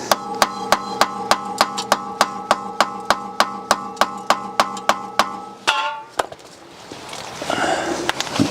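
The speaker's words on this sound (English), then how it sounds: "I'm going to hammer this in." About twenty sharp metallic hammer strikes in a steady, even rhythm, ringing close by as a rear brake disc is hammered onto a BMW 1 Series hub, then a clatter and rustling handling noise.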